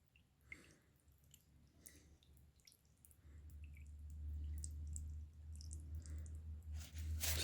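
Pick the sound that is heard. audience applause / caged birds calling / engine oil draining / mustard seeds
engine oil draining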